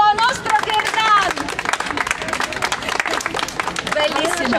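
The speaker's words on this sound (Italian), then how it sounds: "Applauso al nostro gherdan." An audience at a Ukrainian embroidery gathering in Bologna applauds a gherdan beaded necklace. The dense, lively clapping continues under overlapping voices and chatter.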